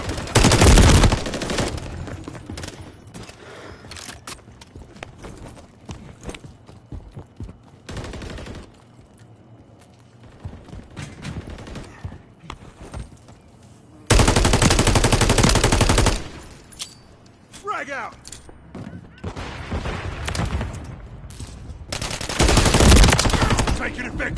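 Bursts of automatic machine-gun fire in the Modern Warfare 3 beta, loud and close, coming in several sustained volleys separated by quieter stretches of distant shooting and battlefield noise.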